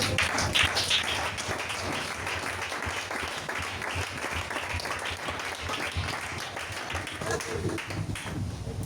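A church congregation claps and cheers for Jesus, sustained applause at close to moderate range that continues steadily for several seconds.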